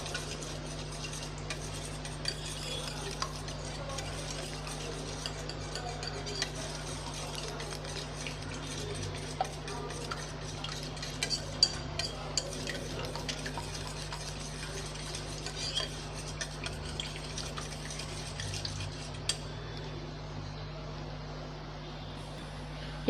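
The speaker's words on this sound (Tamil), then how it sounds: "இப்போ இதை நல்லா ஒரு விஸ்க் வச்சு நல்லா கலந்து விட்டுறலாம்." Eggs beaten with salt and a pinch of turmeric, whisked in a bowl: a steady, faint scraping and tapping of the whisk against the bowl with a constant low hum underneath, no voices.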